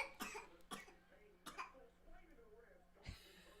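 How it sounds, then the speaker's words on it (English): A child coughs in short, sharp bursts, several close together near the start and another pair later, loud and near, with a constant low hum beneath. "She's not actually coughing for any discernible reason."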